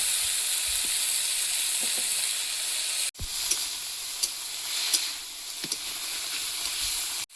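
Spinach, cumin seeds and slit green chillies sizzle loudly in hot oil in a pan, a steady close frying hiss with a brief break and small crackles and stirring taps.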